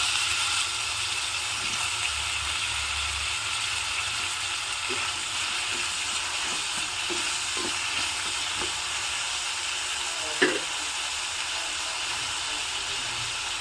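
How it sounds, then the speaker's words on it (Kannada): Two chopped medium-sized tomatoes dropped into onions softening in a hot frying pan for a moong bean curry, giving a steady loud sizzle and hiss throughout with a few faint stirring clicks and one brief clatter. "ಮೀಡಿಯಂ ಸೈಜಿನ ಎರಡು ಟೊಮೊಟೊವನ್ನು ಕಟ್ ಮಾಡಿ ಹಾಕ್ತಾ ಇದ್ದೀನಿ"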